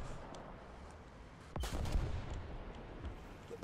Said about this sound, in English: Go towards where the explosions are coming from.